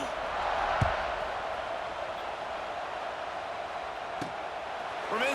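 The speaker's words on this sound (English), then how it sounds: "this crowd is buzzing after that last score" Steady crowd buzz filling a stadium in the College Football 26 video game, a continuous broad roar with a couple of sharp thuds and a rising tone near the end.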